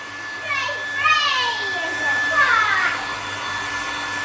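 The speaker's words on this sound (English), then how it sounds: "So we will even blow dry you with the front." A hair dryer blows steadily close by as a wet cat is dried, the constant whir with a high whine running throughout, while a high-pitched voice speaks over it.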